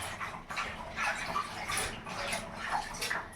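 Freshly picked spinach being washed in a large basin of water, producing soft, continuous sloshing and splashing at close range.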